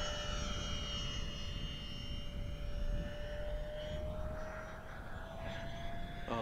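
Twin 64mm electric ducted fans on an E-Flite A-10 Thunderbolt RC jet whine steadily at full throttle as it flies past, a sustained high-pitched tone with broadband rushing air, fairly loud and continuous throughout.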